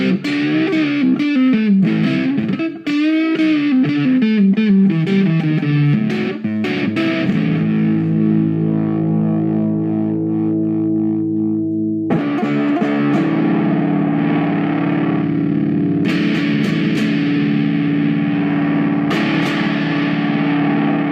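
An electric guitar plays through a Marshall G100R CD amp with a VS412 4x12 cabinet, contour set high, heavy distortion, starting with quick bending riffs and then ringing, sustained power chords, loud and close.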